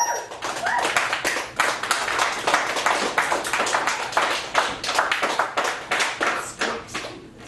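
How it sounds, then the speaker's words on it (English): Audience clapping and cheering for a poet introduced at a poetry open mic in a Chicago gallery cafe, dense steady applause filling the whole stretch at fairly close range before easing toward the end. "So please give it up for Luci Blinn."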